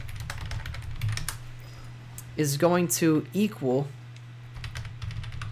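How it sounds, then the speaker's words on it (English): Computer keyboard typing during RPG game programming, a quick clatter of light keystrokes close by before and after a short stretch where someone speaks, with a faint steady hum underneath. "Oh, I was typing that, but I didn't end up finish typing it."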